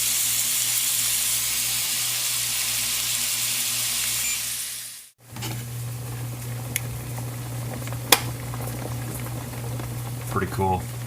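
A stir fry sizzles in hot oil with a loud, dense hiss that cuts out briefly and then resumes as a quieter crackle with a low hum and a few clicks.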